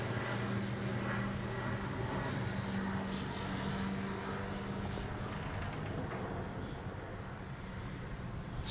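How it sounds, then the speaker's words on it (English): A supercharged Caterham race car on the Donington Park GP circuit during a CSCC race, heard as a steady, loud engine roar that holds for the whole stretch without a clear rise or fall. "Comes through in the supercharged Caterham."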